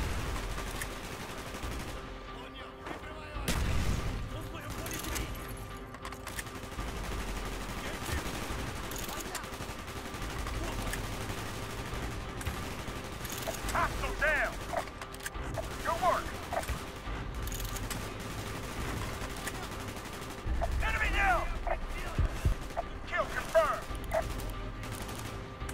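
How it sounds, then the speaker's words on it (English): Gunfire in the Call of Duty: Black Ops campaign, bursts of shots crackling through a steady battle din with game music and voices, several louder volleys standing out near the start and toward the end. "Gunfire's drawing attention."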